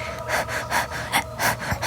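A voice imitates heavy, exhausted breathing, a quick rhythmic run of about seven loud, close gasping breaths with no words.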